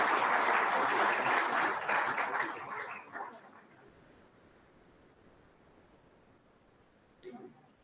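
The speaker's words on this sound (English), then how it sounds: "Can we please have a huge round of applause" An audience at an IEEE international conference on sustainable power and energy technology claps in a dense burst of applause that lasts about three seconds, then fades to a quiet room hum.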